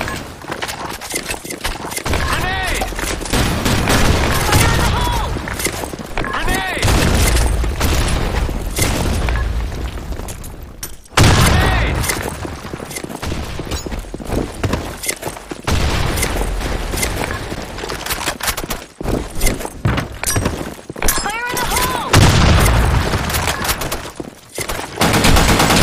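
Gunfire and explosions from a video game battle fill the stretch with dense bursts of shots and booms, loud and continuous with brief drops near the middle and around nineteen seconds.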